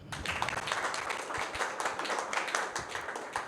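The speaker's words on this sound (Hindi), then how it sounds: "ताली तो अच्छी सी बजा दो यार।" Audience clapping at a talk, a dense, fairly loud round of hands clapping with uneven rhythm and no talking.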